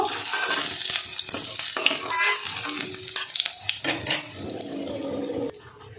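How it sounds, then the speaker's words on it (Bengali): Potatoes crackle and sizzle in hot oil, with frequent metal spatula scrapes and stirring clatter against the pan, close and continuous. "দিয়ে লাল লাল করে আলুটা ভেজে নেব"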